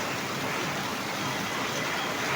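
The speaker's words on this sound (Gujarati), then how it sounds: "નેવાના પાણી પડે છે" Heavy rain falling steadily in Morbi, with water pouring off the roof eaves; a dense, unbroken hiss of close downpour runs evenly throughout with no voices.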